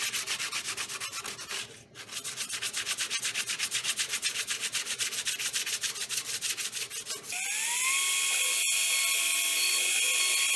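A small CNC machine sands a cut cupboard latch, a steady rapid buzzing rasp that runs continuously, briefly dipping, then shifting into a higher whining tone partway through.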